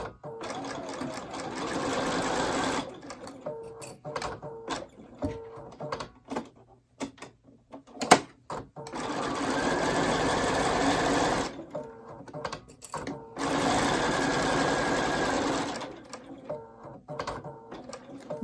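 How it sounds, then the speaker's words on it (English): A sewing machine stitches around the perimeter of a welted zipper pocket in loud, rapid mechanical runs, with bursts lasting a few seconds each and brief pauses, clicks and handling noises between them. "then we're going to sew along the perimeter"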